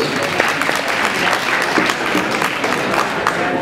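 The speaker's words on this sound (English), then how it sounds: "Let's give her a big round of applause." An audience at a dance competition claps steadily and loudly, a dense wash of applause that holds evenly from start to finish.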